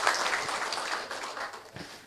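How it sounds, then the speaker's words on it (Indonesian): Audience applause at the closing ceremony of an UMKM Tangguh Adaro small-business program in Tabalong, a burst of clapping from a seated crowd that starts strong and tapers off over two seconds. "Mungkin kita bisa tepuk tangan ya kepada dua bidadari kita yang dari depan."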